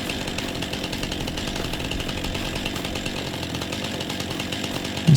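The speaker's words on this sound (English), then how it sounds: "I wonder if it matters what angle you've got the chainsaw at." A chainsaw in Farming Simulator 25 cuts into a tree with a continuous, buzzing engine drone that holds steady and close for the whole clip, with no talk over it.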